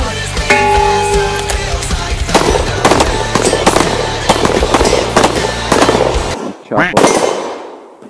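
Rapid series of loud, sharp gunshots at a popper shooting competition in Přelouč, cracking one after another close by with some ringing, ending in a few separated shots, while a voice speaks briefly.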